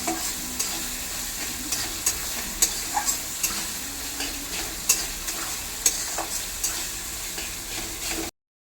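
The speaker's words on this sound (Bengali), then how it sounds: "এবার এই মশলাটা ভালো করে কষাতে হবে, যতক্ষণ থেকে তেল ছাড়ছে ততক্ষণ ভালো করে মশলাটা কষাবো" A spice paste for egg curry sizzles in hot oil while a spoon stirs it in steady, repeated scrapes. The frying hiss runs loud and close without any voices.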